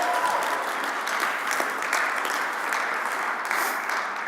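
A conference audience breaks into steady, dense clapping after an announcement. The applause holds at a constant level from start to finish, with no voices heard over it.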